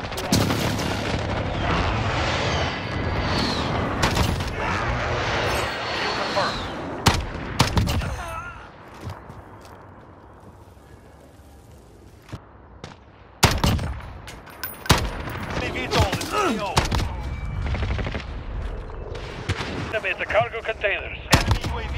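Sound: precision airstrike explosions in video game Call of Duty: Modern Warfare

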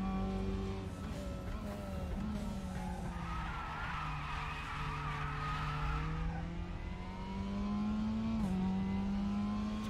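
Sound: car tires skidding in a light drift, RaceRoom racing game

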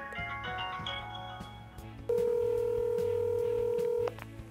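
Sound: telephone call being dialed and ringing

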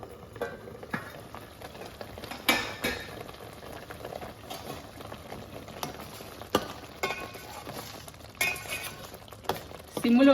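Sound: frying onion paste in oil for fish curry

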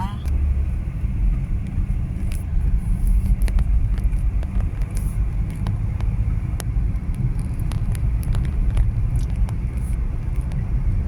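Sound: car driving

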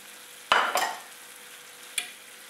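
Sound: frying mushrooms and corn in a pan

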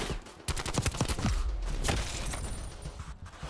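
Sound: AK74u gunfire in video game Black Ops Cold War

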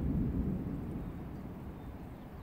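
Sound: distant thunder rumbling

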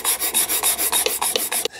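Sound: shooting sander sanding a wooden drawer corner

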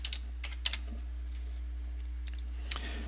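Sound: typing data on a computer keyboard

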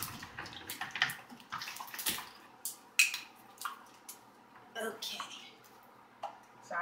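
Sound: water being poured into raw oatmeal

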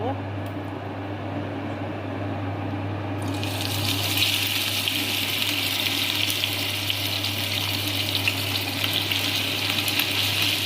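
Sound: fish frying in hot oil in a pan

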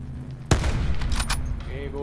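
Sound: gunfire in a video game shooter

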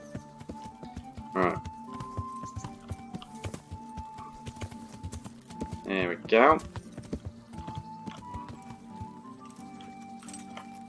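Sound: horse hooves clip-clopping in video game Kingdom Come Deliverance

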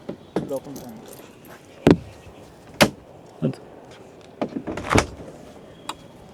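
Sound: suicide door of a Fiat Elegant car being opened

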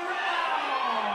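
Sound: crowd at a boxing event

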